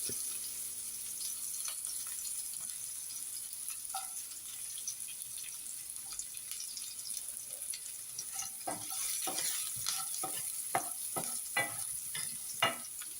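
Ginger, green chili and long-sliced carrot frying in a pan for vegetable fried rice, with a steady low sizzle and scattered stirring clatter that grows busier toward the end, with no voices.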